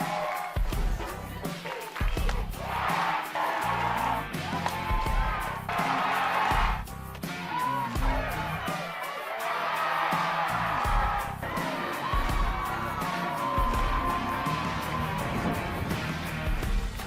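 A softball crowd at a college conference championship game stands and cheers in the late innings, a loud, sustained roar with whoops and scattered claps rising and falling, while a commentator's voice talks over it.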